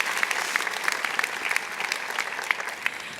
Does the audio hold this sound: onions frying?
no